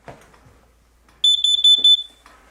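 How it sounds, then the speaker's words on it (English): A shrill, high-pitched smoke alarm beeps in a rapid series of short pulses, loud and close, after a few faint rustling sounds. "he hears the smoke alarm go off."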